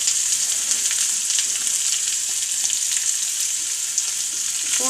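Bitter gourd fries in a pan with a loud, continuous close sizzle and dense hissing crackle, broken by faint stirring movements and no voices.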